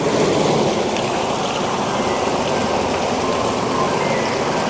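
Steady, continuous rush of borewell water pouring and splashing from a pipe, loud and close, with no pauses or voices.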